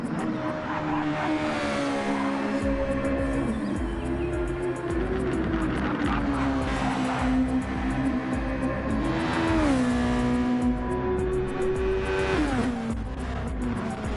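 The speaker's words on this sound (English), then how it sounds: "He's just taking a few practice laps around in his custom Red Bull." A custom Red Bull race car laps Monza in a racing video game, its engine droning loud and steady and rising and falling in pitch through repeated gear changes, with no talk.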